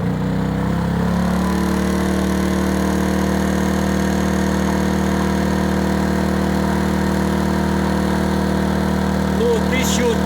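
A GTM DK2000i inverter generator runs steadily under an electrical load of about 1300 watts, its engine holding a constant, fairly loud mid-pitched drone throughout.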